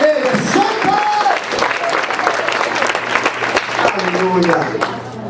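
Congregation applauding during an evening church service, dense sustained clapping filling the hall with a voice speaking over it throughout.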